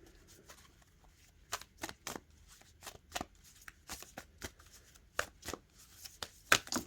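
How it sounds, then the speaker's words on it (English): A deck of oracle cards is shuffled by hand, with soft riffling flicks and snaps coming in quick irregular bursts, close but quiet in a still room. "Let me pull one more card."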